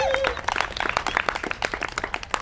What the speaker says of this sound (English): So give you guys a round of applause.